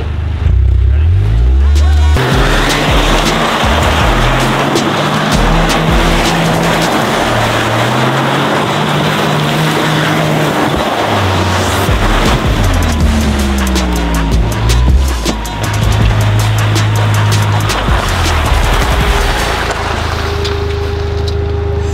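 A Toyota GR Corolla revs hard in 50-50 drive mode on loose dirt with the wheel locked, its engine droning and rising in pitch through a sustained spin, with people talking over the roar.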